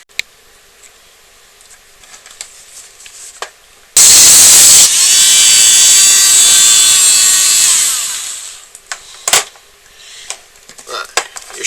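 A Dremel rotary tool cuts along the plastic casing of a mulcher battery up toward the charge plug, giving a loud sustained high whine for about four seconds after quiet handling noises, followed by scattered clicks and taps.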